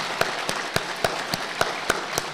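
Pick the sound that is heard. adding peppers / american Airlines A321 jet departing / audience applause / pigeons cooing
audience applause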